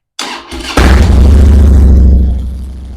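A Harley Dyna motorcycle engine cranks briefly, fires and catches, then settles into a loud, close, throbbing idle.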